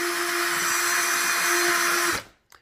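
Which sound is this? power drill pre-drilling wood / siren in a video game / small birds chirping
power drill pre-drilling wood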